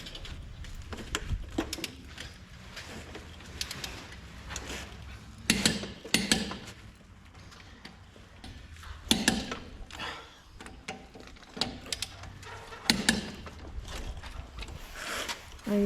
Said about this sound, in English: Putting the final torque on each one of these lug nuts, getting them all nice and even